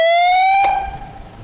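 A loud electronic siren tone rises briefly, then cuts off abruptly, leaving a faint noisy tail.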